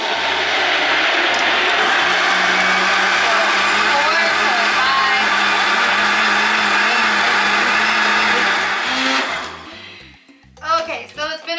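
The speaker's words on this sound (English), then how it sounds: "you're gonna blend this for like 4 minutes is what I usually do, and it's gonna puree the cucumbers to like almost nothing" A blender purees cucumbers for agua fresca with a loud continuous whirring roar for about nine seconds, then cuts off, and a few short voice sounds follow.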